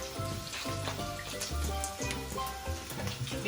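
Tuna balls frying in hot oil, a constant crackling sizzle with sharp spitting pops scattered throughout, heard close, with a low tonal hum running under it.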